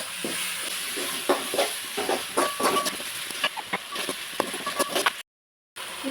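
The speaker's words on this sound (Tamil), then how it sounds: "இஞ்சி பூண்டு பேஸ்ட்டு போட்டு வணக்கி விட்டுக்கலாம்." Ginger garlic paste sautés in a pan for a paarai fish curry, a constant crackling sizzle broken by sharp pops and stirring scrapes. The sound drops out briefly near the end.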